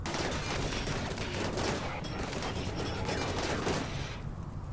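Rapid gunfire in the colony-sim game Rimworld: a dense, continuous volley of overlapping shots that crackles steadily for several seconds, then eases slightly at the end.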